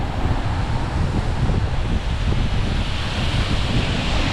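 Strong wind buffets the microphone on a blustery day out on a main road near Pastor Alley in Macau, a loud, steady roar with low rumbling gusts that never lets up.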